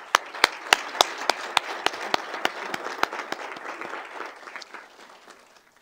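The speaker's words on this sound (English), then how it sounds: "I'd also like you to join me in a round of applause for our esteemed panel" An audience applauds a panel at a technology forum on big data, telecom and security: rhythmic unison clapping, loud and evenly spaced, merging with scattered applause that gradually fades out.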